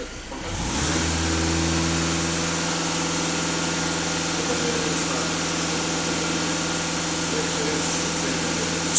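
A Volkswagen TDI diesel engine starts up and settles into a steady, droning run at raised revs, loud and continuous for several seconds, with a faint clatter underneath.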